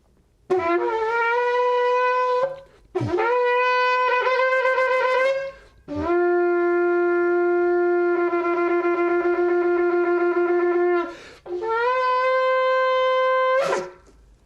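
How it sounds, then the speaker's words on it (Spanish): A shofar is blown in four long, brassy blasts separated by short breaths, each a sustained buzzing tone with bends and wavers at its start and end, loud and alone. "Este es el shofar"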